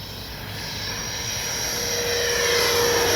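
Freewing Red Hawk T1 70mm electric ducted-fan RC jet passing by with its gear down, a steady broadband whoosh and high whine that grows gradually louder over a few seconds.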